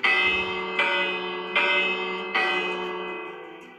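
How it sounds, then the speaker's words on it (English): A large bell inside a Big Ben model clock mechanism strikes four times at a steady, slow rhythm, each ring close, loud and resonant, decaying gradually into the next. "And this is the bell right here. Let's see if I can ring it."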